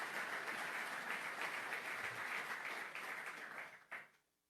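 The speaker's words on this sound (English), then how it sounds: "Let's give ourselves a big round of applause for being able to do this." Round of applause from the audience at the opening of an energy conference and supply chain expo, a steady wash of clapping that holds, then fades out with a final burst.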